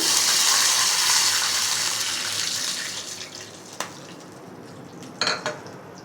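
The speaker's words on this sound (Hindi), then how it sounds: "अब इसके अंदर हम डालेंगे 1 कप पानी।" One cup of water pours into a pan of gram-flour khaman dhokla batter with a hissing rush that fades out, followed by a couple of light metallic clinks.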